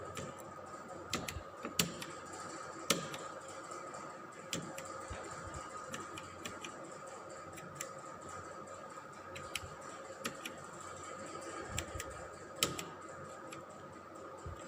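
Keys on a keypad tapped one after another while a stepper motor control program is entered, giving faint, irregular clicks over a steady background hum, with no talking.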